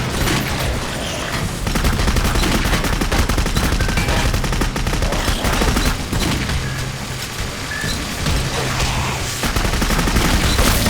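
Dense, continuous gunfire from the video game Clive Barker's Jericho: rapid automatic bursts and overlapping shots with occasional heavier booms, loud and sustained throughout with no pauses.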